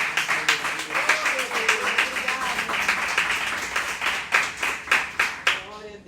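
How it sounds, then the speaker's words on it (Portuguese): A church congregation at an evening prayer service claps in rhythmic, fairly loud bursts, with voices talking and calling out over the hands throughout. "aplauda o Senhor com o seu melhor"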